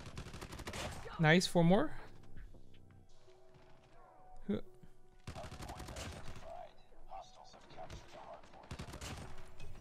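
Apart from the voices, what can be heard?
gunfire from a video game, Call of Duty Mobile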